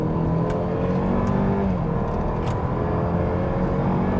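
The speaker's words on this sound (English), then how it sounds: "Let's see also what the first acceleration just with front wheel drive" A front-wheel-drive 2021 Opel Insignia GSi accelerates from 50 to 100 km/h, its engine a loud, steady drone that climbs in pitch under heavy road and wind noise inside the cabin, with no talking.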